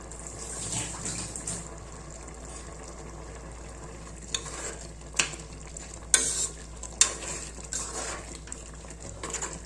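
A spicy kuskha rice mixture stirred in a pot, giving soft scraping and wet shuffling over a faint sizzle, with a few louder clanks of the spoon against the pot.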